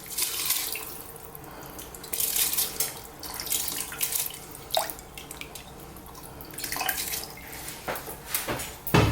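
Soaked rice and water pour into a pot, splashing and running in uneven bursts with wet pouring and dripping sounds, soft and nearby, with no voices.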